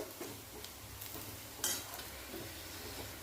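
Onion and grated coconut dry-roasting with spices in a pan for a village-style bitter gourd curry, a soft low sizzle with light stirring scrapes and a brief metallic tap midway, no talk.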